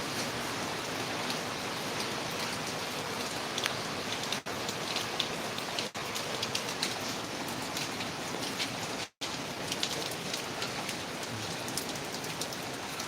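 Steady heavy rain pattering on a surface, a dense constant hiss with scattered close drops, with no voices.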